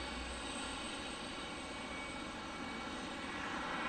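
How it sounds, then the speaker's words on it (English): An older Delta airliner at Detroit Metropolitan Wayne County Airport gives a steady, distant engine roar with no distinct peaks, faint and unbroken throughout. "probably one of the oldest airplanes in Delta's fleet"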